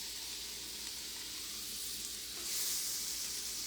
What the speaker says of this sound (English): Just gonna brown this fat cap.